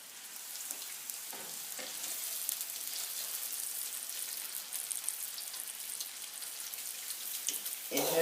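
Red snapper coated in Cajun seasoning sizzles on a griddle iron, a steady close crackle of frying with a few soft knocks and clatters near the end.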